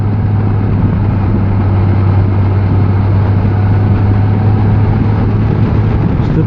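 Steady motorcycle engine drone while riding up a hilly country road past farms on a blustery day, a continuous loud low hum mixed with wind rush and no talking.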